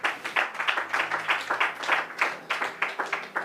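A church congregation claps together to acclaim the Lord, steady rhythmic hand claps repeating about four times a second, full and close, with no talking over them.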